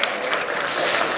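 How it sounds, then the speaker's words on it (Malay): Seminar audience applause: a short, dense burst of many hands clapping at once, steady and close, with no voices over it. "berikan tepukan kepada tuan-tuan"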